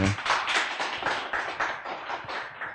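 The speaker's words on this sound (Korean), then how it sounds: "다시 한번 더 큰 박수 부탁드릴까요?" A small audience claps at the close of a labor forum, with distinct hand claps arriving in quick, uneven bursts that stay close and fairly loud throughout.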